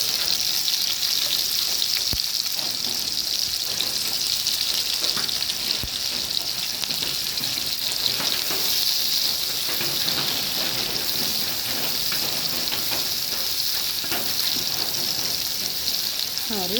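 Garlic and chopped onion fry in a pan, giving a steady, close, dense sizzle that holds at an even level throughout, with faint scrapes of stirring.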